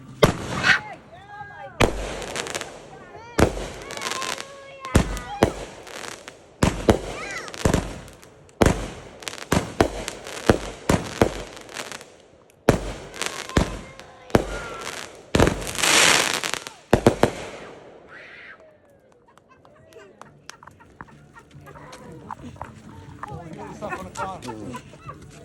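Fourth of July fireworks go off at close range in a rapid, uneven string of loud sharp bangs and crackling bursts for most of the stretch, then fade to quieter scattered pops while people talk and call out in the background.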